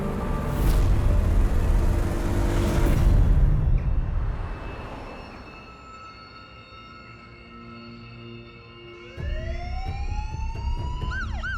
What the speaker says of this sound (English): Police sirens pierce the Saturday morning calm of Wilkes-Barre, Pennsylvania.